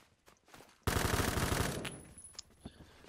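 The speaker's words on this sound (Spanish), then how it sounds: "Alguien me disparó ahí" A rapid burst of automatic gunfire in the Roblox shooter Phantom Forces, loud and close, lasting about a second before decaying, with a few scattered fainter shots and clicks around it.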